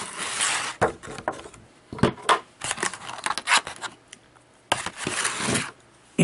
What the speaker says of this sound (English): It comes in a red cardboard box and a plastic sleeve that just slips off.